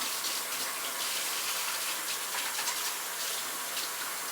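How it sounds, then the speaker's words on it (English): Steady rush of water from a running tap as hands are washed beneath it, a continuous close hiss and splatter with no speech. "I already washed my hands, but I'm gonna wash them again because I've been touching the box."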